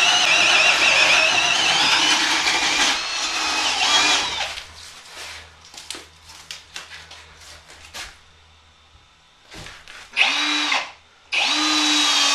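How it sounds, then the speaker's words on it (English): A Milwaukee 18V brushless hammer drill bores through a 4x4 Douglas fir post, starting with a loud sustained whine under load, then a stretch of short bursts and pauses, ending with two more brief high-speed runs. "drill through this 4x4 Douglas fir and see how much juice is left in it"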